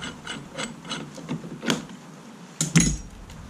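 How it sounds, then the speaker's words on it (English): A school bus steering wheel clicks through a series of small ratcheting mechanical ticks, then gives a louder pop as it is released, close up and brief. "once you hear the pop, you know you've released the steering wheel"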